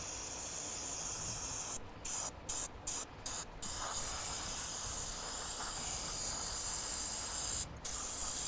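Aerosol spray blasts onto the dirty outside of a 2018 Ford F-150 throttle body in a steady, close hiss, broken by a few short gaps early on and one later.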